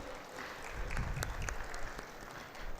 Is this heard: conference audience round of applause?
yes